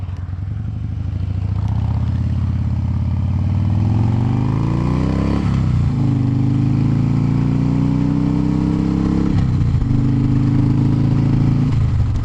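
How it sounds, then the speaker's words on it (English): A motorcycle engine revs up steadily and loud, dropping back to idle before rising again, with a deep rumbling tone that holds strong and close throughout, and no voices over it. "This bike sounds real good now."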